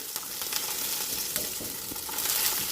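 Cinnamon, cloves and garlic frying in two spoons of oil in a pan for vegetable pulao, a bright continuous sizzle with crackling bursts and occasional stirring, close and alone.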